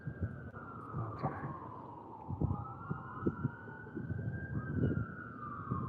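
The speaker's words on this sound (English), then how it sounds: "Don't mind the sirens." Emergency vehicle sirens wail continuously in the distance around Baltimore's Inner Harbor, with their pitch sweeping slowly over steady city traffic and street noise.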